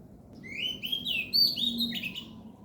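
A lapwing calls in a quick series of sharp, high notes over a low steady background hum.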